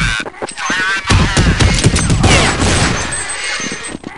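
Rapid bursts of gunfire from Counter Strike 1.6 on the cs_coffemanor map crackle loudly and continuously, sharp repeated shots layered with impacts and mechanical clatter throughout.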